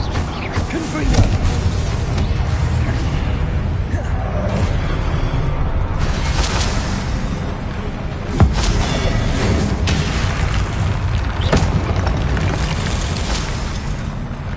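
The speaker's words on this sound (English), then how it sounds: "Confringo." Explosive magical blasts from the Confringo spell in Hogwarts Legacy, several heavy booms and bursts spread across the stretch over a dense, loud bed of game sound, with a voice talking throughout.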